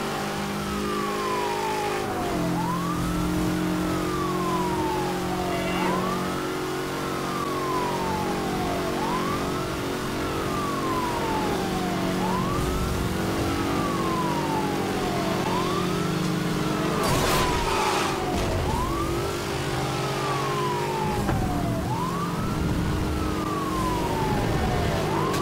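A police car siren wails in Need for Speed Hot Pursuit Remastered, its rising and falling cycle repeating steadily under loud engine revving and accelerating car noise throughout.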